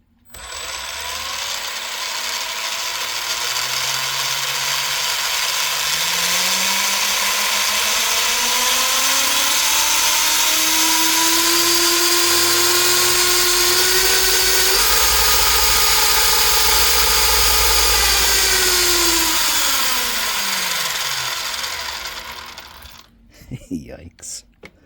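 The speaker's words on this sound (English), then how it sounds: "so now it's propped up off the ground, so I can give it a little throttle" Electric motor of a Nikko Dictator RC car propped off the ground, whining loudly as the throttle is held, pitch climbing steadily then falling away over about twenty seconds before cutting off into handling noise.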